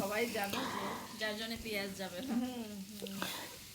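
Washed radish frying in a pan with a mustard seed and green chili tempering gives a soft, steady sizzle beneath continuous close talking.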